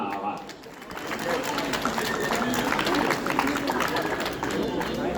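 Spectators at the Les Sables d'Olonne half marathon applaud an elite woman runner being presented: steady, dense clapping and crowd noise holding for several seconds, with an announcer's voice running over it.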